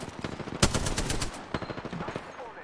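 Video-game gunfire in a competitive match: a loud single shot followed by a rapid burst of automatic fire, then a few scattered shots, close and punchy.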